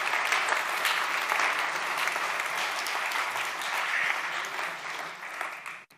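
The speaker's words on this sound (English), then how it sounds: "give them a little round of applause" Sustained applause from a crowd, dense steady clapping that holds for several seconds before tapering off abruptly at the end.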